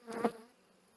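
Bees buzz at an open beehive during a hive inspection: a short, close swell of humming that peaks quickly and then fades to a faint drone.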